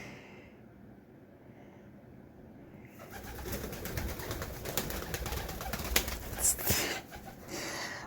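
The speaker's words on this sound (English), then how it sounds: "That is the behavior of a really excited pigeon" A pet pigeon coos excitedly indoors, close and moderately loud, a soft burbling run of low coos that swells after a quiet start, with a few brief rustles and flaps mixed in.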